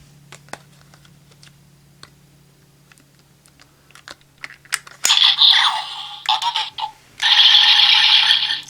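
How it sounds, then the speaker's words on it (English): Small plastic clicks and rattles as a card slides into a DarkVisor Zwei toy sword, followed by bursts of loud electronic sound effects from the toy. "And you can still put in a card."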